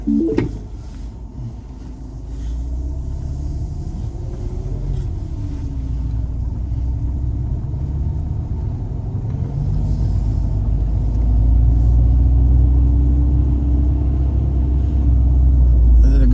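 A car drives through a leafy residential neighborhood in Medina, Minnesota, heard from inside as a steady low engine and road rumble that builds slightly louder toward the end.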